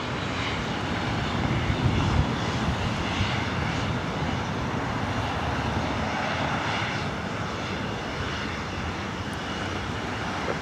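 A Southwest Airlines Boeing 737-700 jet departing for Denver sends out a continuous, rumbling engine roar that holds steady at moderate volume, heard alone without talk.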